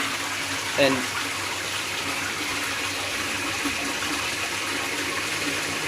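A toilet flushing, fed by a Grundfos twin impeller regenerative booster pump at 3.0 bar, makes a steady, close rush of running water throughout. A brief voice is heard near the start.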